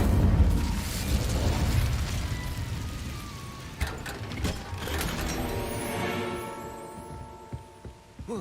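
Incendio fire spell cast in the game Hogwarts Legacy, a dense burst of crackling, whooshing magical effect layered with mechanical clanks and pops, fading into a shimmering ringing tail.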